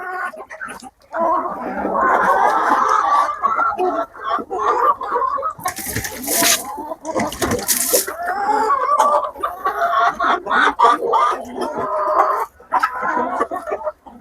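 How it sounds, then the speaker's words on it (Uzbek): Khan-Khyap and Barkovsky breed roosters and hens cluck and call nearby in a farmyard, a loud, continuous chorus of overlapping clucks broken by a couple of sharp noisy bursts. "Xo'rozni qarang."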